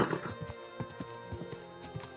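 A horse in the video game Kingdom Come: Deliverance 2 clip-clops steadily at close range, with a whinny near the start, all over soft tonal background music.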